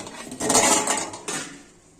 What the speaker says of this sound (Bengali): ঢাকাটা তুলে দেখাচ্ছি